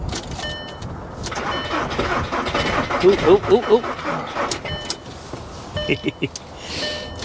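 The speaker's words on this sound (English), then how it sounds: "It's cranking like it's 12 degrees outside." A diesel Nissan Armada cranking on a cold start: a sluggish, rhythmic run of starter churning pulses, loud and close, stopping and then briefly cranking again, with a short exclaimed voice between.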